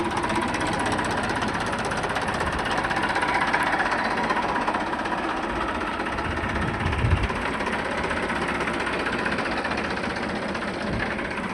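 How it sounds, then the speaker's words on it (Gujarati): A tractor engine runs with a steady, rough rumble and clattering knock as the tractor rears up at the front, loud and continuous with no voices. "દોસ્તો જોઈ શકો છો તમે ટ્રેક્ટર ઉલળતું જાય જો."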